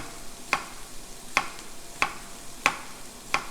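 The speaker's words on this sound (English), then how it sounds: "We're going to get the onions for our beans chopped up" A knife chops onions into small pieces on a board for beans: five crisp, evenly spaced cuts, close and clear against a quiet room, with no talking.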